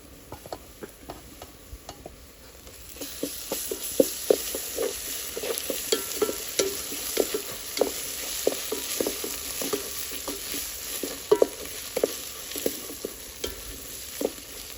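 Ginger paste frying in a pan for mutton head curry while a spoon stirs, a steady sizzle under repeated scraping clicks at an irregular rhythm, close by with no talking.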